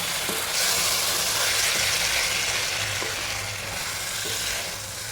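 Sardine pickle being stirred with a pinch of salt, a continuous close sizzling hiss with soft scraping strokes repeating roughly once a second, no voices.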